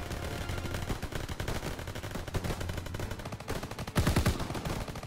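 Sustained rapid gunfire in a World War II game set in a city, dense overlapping rifle and machine-gun bursts with a louder close burst near the end, no talk.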